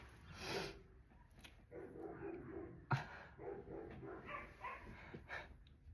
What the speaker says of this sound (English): Lil, will you get your dog?